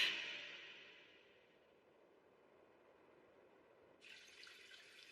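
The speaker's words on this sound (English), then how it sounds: "I can hear it. The sound of water." Running water in an anime scene, a soft steady rush of flowing water, faint and continuous, with a brighter splashing layer rising near the end.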